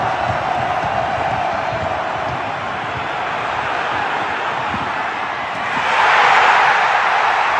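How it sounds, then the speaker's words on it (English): A Detroit Lions football stadium crowd roars loudly as a receiver catches a pass, a dense continuous wash of distant cheering that swells noticeably louder near the end. "listen to the roar of this crowd when he catches this pass"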